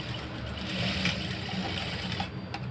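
A sewing machine runs steadily while stitching a patchwork blouse, a continuous close whirring hum with no pauses and no voices.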